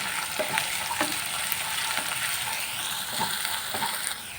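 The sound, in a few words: frying potatoes with ground coriander while stirring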